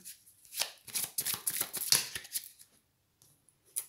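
A deck of tarot cards is riffled and shuffled close up in a burst of crisp, rapid flutters lasting about two seconds. It stops, then a couple of faint card taps follow. Nobody speaks.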